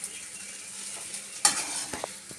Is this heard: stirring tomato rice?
yes